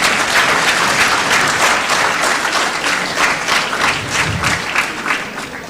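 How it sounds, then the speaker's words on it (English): A hack fest audience claps steadily throughout, a dense, even wash of applause from a large crowd, fairly loud and close, with no voices above it. "a huge round of applause for him"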